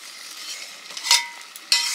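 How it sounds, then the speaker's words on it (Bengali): Taro flowers are tossed and stirred in a dry wok, with a soft continuous scraping and rustling broken by a few sharper bursts of stirring toward the middle and end, close by with no voices. "কচু ফুলগুলোকে শুকনো কড়ায় নেড়ে নিয়েছি"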